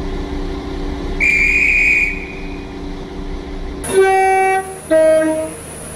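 A train in the Roblox game Stepford County Railway sounds its horn at a station: a short high whistle tone, a pause, then two louder multi-tone horn blasts in quick succession, with a low steady hum beneath.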